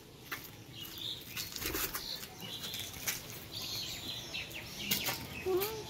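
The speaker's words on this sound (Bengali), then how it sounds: "দুটো পায়রা উড়ালাম দেখুন" Pigeons, adult birds from a home loft, take off with repeated quick wing flaps and clatters, moderately close against a soft outdoor background with faint chirps, no one speaking.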